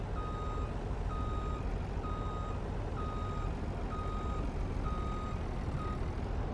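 Truck backing a trailer in the Farming Simulator 19 video game, a steady series of evenly spaced reversing beeps, about one per second, sounding over a loud continuous engine rumble, with no talking.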